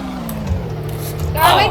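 Ford 6.0 truck driving at top speed in a roleplay video game, a steady low engine drone under ongoing talk, ending in a brief louder burst of noise.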